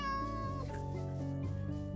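A cat meows in the Minecraft video game, a single drawn-out synthetic meow with a tonal, wavering pitch, loud and close, with no talk over it.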